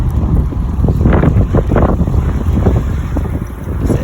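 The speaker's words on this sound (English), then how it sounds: "It's super windy out here" Strong wind buffets the microphone with a constant loud rumble and gusty roar, no voices present.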